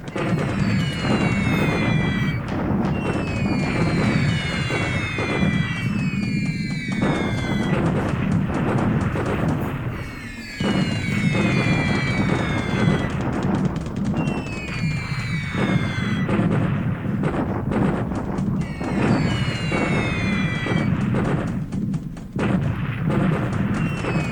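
Heavy 250 kg bomb impacts in the War in the Pacific strategy game boom again and again in long, dense rolling barrages, loud and close, with whistling descending tones over the blasts and no voices.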